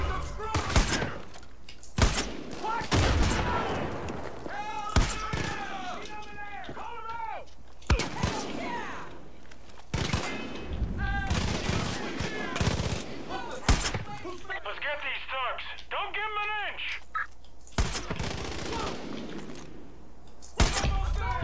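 Sniper rifle shots in the Far Cry 5 shooter, sharp loud reports recurring every few seconds amid game effects, with someone talking and other voices throughout.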